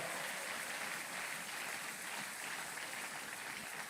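A church congregation applauds at a Sunday service, a steady, dense wash of clapping that holds throughout.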